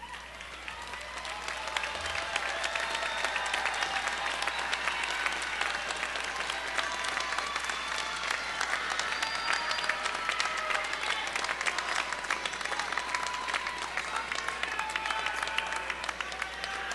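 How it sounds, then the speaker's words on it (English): A commencement audience applauds family and loved ones with sustained, dense clapping from a large crowd, steady and loud for the whole stretch with no talk over it. "Will you please turn around and applaud your family and loved ones"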